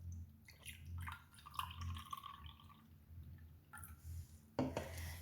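Liquid is poured into a glass beaker, giving faint trickling and dripping sounds with small glassy clinks, quiet and close, ending in a brief louder clink or splash.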